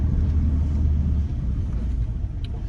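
Inside a Mercedes-built smart car driving through downtown Atlanta, a steady low road rumble and engine drone fill the cabin continuously without any talking.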